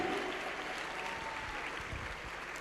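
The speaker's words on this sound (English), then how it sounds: "Once again, a round of applause for Minister Malati." Audience applause at a youth week event in the Vaal, a steady wash of clapping from a crowd that stays fairly even and continuous throughout, with no speech over it.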